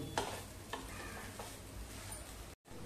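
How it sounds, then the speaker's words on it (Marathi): A spoon scrapes and stirs grated coconut and jaggery in a pan, soft sizzling underneath with a few sharp scraping strokes, quiet overall and briefly cutting out near the end. "आता आपण गूळ घालून घेऊ। गूळ तुमच्या आवडीप्रमाणे कमी जास्त करू शकता। चांगलं एकजीव करून घेऊ।"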